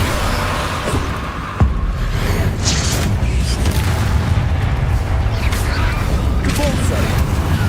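Loud spell explosions and booming blasts in the video game Hogwarts Legacy, a dense continuous barrage with one sharp hit near the start, with speech-like voices mixed in.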